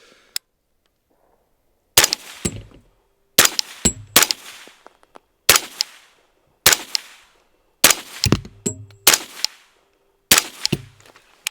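Ten suppressed rifle shots from an 11.5 inch gun fitted with a YHM Turbo T3 suppressor, each a sharp close crack with a short ringing tail, fired in quick pairs and singles with brief pauses between.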